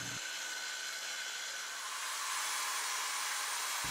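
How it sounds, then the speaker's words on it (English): A circular saw running in a straight-cut jig rips through a sheet of plywood while shelves are being built, a steady whining buzz that starts abruptly and holds evenly, growing slightly louder toward the end. "I use my circular saw straight cut jig that I created in an earlier"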